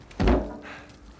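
A heavy thud sounds as gear is tossed down in the video game Uncharted 4, a single close, dull impact that quickly decays into quiet.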